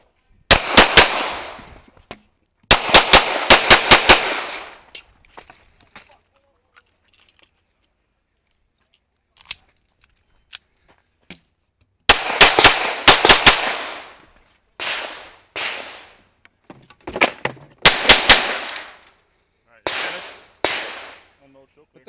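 Pistol shots on an IDPA match stage: several tight bursts of rapid, sharp, loud reports, separated by pauses, with faint handling noise in the gaps.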